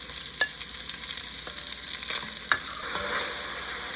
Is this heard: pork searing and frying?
yes